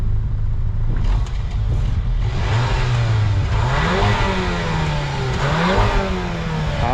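A Volkswagen Golf 7R with a stock exhaust revs up repeatedly, close and loud. The engine note climbs and falls in several sweeps over a steady rumbling idle, and no voices are heard.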